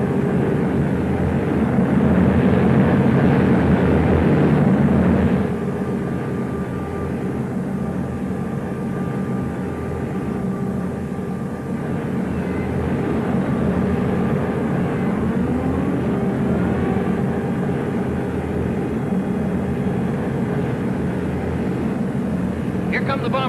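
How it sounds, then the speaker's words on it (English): Bomber aircraft engines drone steadily in a loud, continuous rumble that swells and holds as the planes approach, with no speech. "Here come the bombers now. You can probably hear them."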